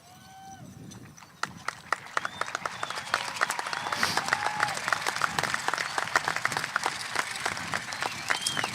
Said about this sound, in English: Let's give them a bigger round of applause than that, please.